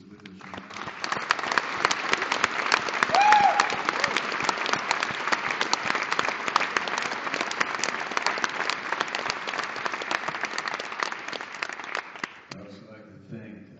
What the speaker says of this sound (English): let's take a moment and let's give a big round of applause